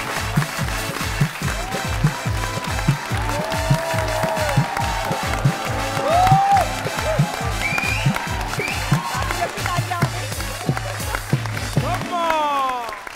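A studio audience applauds and claps steadily for actress Sunita Marshall as she comes on stage at a TV talk show, the clapping running continuously over a thumping rhythmic music beat until it cuts off near the end.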